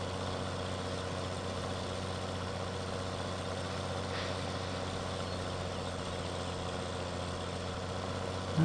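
A Big Bud tractor pulling uphill in Farming Simulator 17 gives off a steady, heavy low engine drone, constant and unwavering throughout at moderate loudness.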